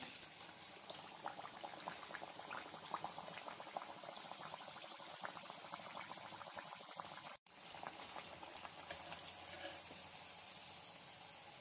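Potato tikki shallow-frying in hot oil gives a steady, dense crackling sizzle close by, continuous for about eleven seconds with only a brief dip near the end.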